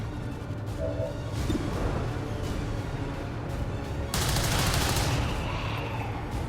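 Sustained gunfire from XCOM 2 rolls on as a dense, crackling barrage of rapid shots. It holds steady and loud, then swells harder and brighter partway through, with no talking.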